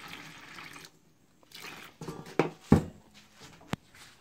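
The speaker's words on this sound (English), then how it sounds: "I'm adding fresh water to it." Fresh water is poured over fertilized catfish eggs and milt in a bowl during hatchery spawning, coming in short splashing bursts and trickles with sharp splashy peaks between quieter pauses, close up.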